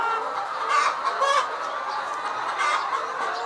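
A crowd of laying hens clucks steadily on an egg poultry farm, a dense, continuous chorus of overlapping murmurs with a few louder squawks rising above it.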